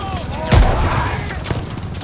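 Gunfire in Call of Duty: Vanguard, one heavy burst with a booming thud near the start, then fainter scattered shots trailing off under background noise.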